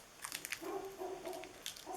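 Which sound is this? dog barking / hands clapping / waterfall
dog barking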